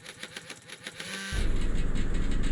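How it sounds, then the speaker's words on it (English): Two-stroke engine of an SMZ microcar in the video game A Desrt cranks with rapid ticking, then catches and settles into a steady, buzzy idle; no talk. "It turns out that the sound of the engine starting is very unique and different."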